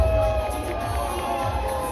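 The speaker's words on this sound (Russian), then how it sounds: "Аплодисменты." An audience at a disco event in Tallinn claps and cheers in a continuous, fairly loud wash of applause with scattered whoops and voices over it.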